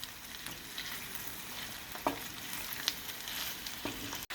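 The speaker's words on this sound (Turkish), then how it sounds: "Karıştırıyorum." Meat sizzles steadily in a hot pan for çoban kavurma, a Turkish sautéed meat dish, while a utensil occasionally scrapes and knocks as the food is stirred.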